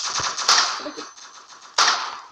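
Two sharp shotgun blasts from the mobile shooter Block Strike, the second about a second after the first, each loud and ringing briefly over a steady game-noise bed.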